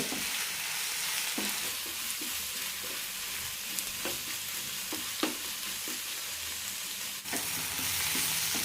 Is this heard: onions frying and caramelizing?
yes